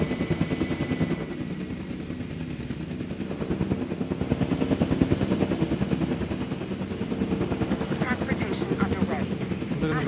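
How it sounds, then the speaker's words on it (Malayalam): Three helicopters in Jurassic World Evolution 2 give a continuous, steady rotor thrum with a pulsing chop throughout, moderately loud and close, with game sounds layered on top. "അതേ 3 ഹെലികോപ്റ്റർ ഒരുമിച്ചൊക്കെ പണിയെടുക്കും."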